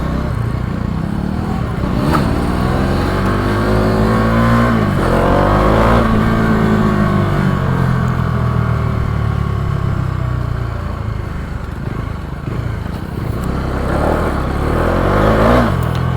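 Near, loud engine running on a Bajaj Dominar 250 motorcycle, holding a steady drone with rising and falling revs throughout and no talking.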